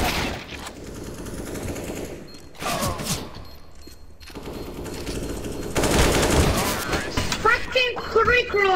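Rapid automatic gunfire from a video game weapon with heavy recoil, loud sustained bursts of shots separated by short pauses, with a voice talking over parts of it.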